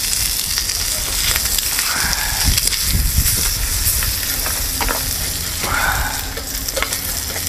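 Bacon and eggs fry on a Solo Stove alcohol burner, a loud steady sizzle and crackle that stays close and continuous throughout, with occasional stirring scrapes.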